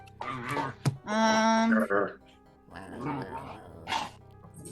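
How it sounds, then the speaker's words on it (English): A dog growls and makes odd whining, yipping noises, with a sustained tonal whine in the middle and short bursts around it, close by and mixed with people talking. "dog is making funny noises."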